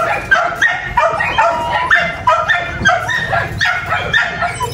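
A female Belgian Malinois puppy of about 7–8 kg barks in short repeated yips mixed with whimpers, loud and close, in a rapid uneven rhythm throughout.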